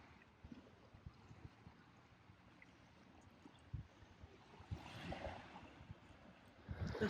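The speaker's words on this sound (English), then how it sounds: "just the sound of the water, the waves." Waves lapping at the water's edge outdoors, a soft continuous wash with a swell of louder surf in the second half, moderately near and unaccompanied by voices.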